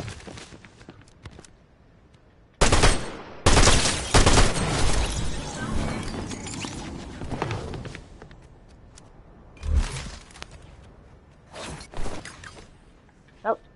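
Gunfire in the video game Fortnite, with loud heavy bursts of shots and crashing impacts, then scattered single shots later on.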